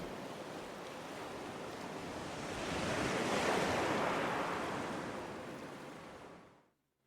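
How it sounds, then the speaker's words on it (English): Ocean waves in the video game Elden Ring Nightreign, a steady broadband surf wash that swells toward the middle, then fades out abruptly near the end, with no voices. "Hark the murmuring waves."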